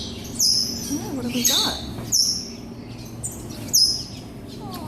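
Several birds chirp and tweet in quick, bright bursts inside a pet store, with a person speaking briefly over the calls.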